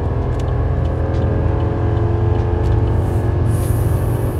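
Gas Chevy 2500 pickup with the 6.6L L8T engine pulls uphill at full throttle, a loud steady drone and rumble that climbs slowly as the revs build, with no talk over it.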